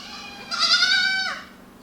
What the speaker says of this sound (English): This is Blossom, the goat on the left with the blue ear tags and the flyaway horns